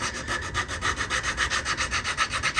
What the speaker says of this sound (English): Next thing I'm going to do is put a little bevel on all these fret slots